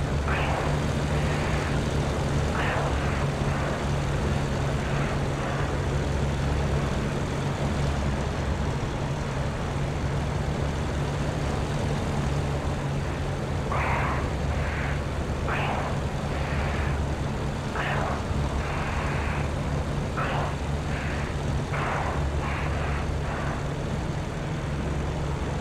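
A P-51 fighter plane in a flight combat video game drones with a steady engine roar throughout, and short bursts that sound like gunfire come in clusters toward the end.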